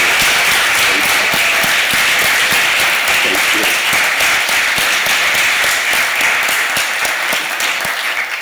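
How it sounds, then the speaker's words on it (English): Dense, loud applause from a film premiere audience fills the room, a continuous wash of many hands clapping at close range without letting up. "a big round of applause for Manthia Diawara"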